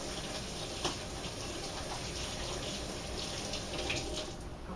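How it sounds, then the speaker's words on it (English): Tap water runs steadily into a kitchen sink as hands are quickly rinsed, a close, even splashing hiss with small bumps of movement. "let me rinse my hands very quickly"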